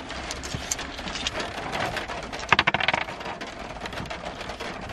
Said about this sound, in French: Voilà c'est carrément de la grêle